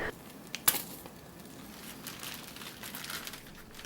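A plastic bag filled with fluffy homemade shaving cream gives faint, soft crinkles as it is handled, with one sharper crackle near the start, heard alone and quiet.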